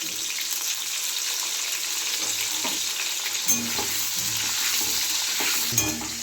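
Close, steady sizzling of pointed gourd pieces frying in mustard oil with a little turmeric, with stirring scrapes and a couple of sharper clatters near the end.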